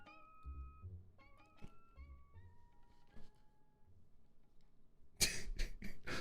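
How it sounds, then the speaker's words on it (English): A house cat meows several times in drawn-out, wavering calls, close by, followed by a sudden loud burst of noise near the end. "I spooked your cat, I'm sorry."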